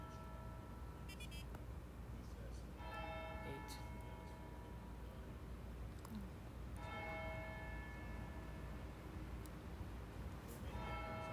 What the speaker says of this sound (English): Is anybody counting the bells?